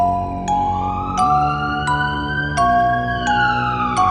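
A wailing siren rises and falls slowly over a dense, steady hip-hop beat with sharp, regular hits in a song.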